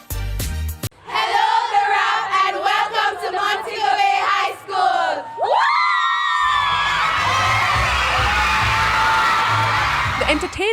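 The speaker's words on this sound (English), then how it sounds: "welcomed by the Montego Bay High School ladies with the loud screams" Montego Bay High School girls greet entertainers on the Octane school tour with loud, sustained screaming and shouting from a crowd, one brief pause before a continuous high-pitched roar.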